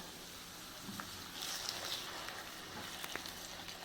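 Ground tomato paste poured into a hot pan for chicken Mughalai, giving a soft, steady sizzle that swells slightly midway, heard alone and fairly quiet.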